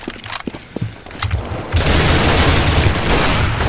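Video game combat with a burst of scattered gunshots, followed by a grenade explosion that becomes a loud, continuous, dense roar of blast and fire filling the rest of the moment.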